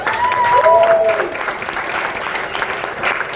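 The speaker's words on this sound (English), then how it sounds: "Check your round of applause to Yuck Yucks for having us" Comedy club audience at Yuk Yuks applauding after a stand-up set, a short burst of clapping with a few whistles, loudest at the start and tapering slightly.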